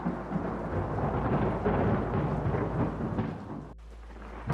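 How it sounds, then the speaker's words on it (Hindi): Heavy rain pours down in a forest at dusk, a dense, continuous roar with deep rumbling thunder underneath, then a sudden drop to a quieter low rumble near the end. "और तभी अचानक तेज बारिश शुरू हो गई।"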